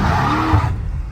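BMW M8 Competition in rear-wheel drive on a rainy road, a loud, close engine roar with tires skidding and squealing for most of a second before dropping off sharply.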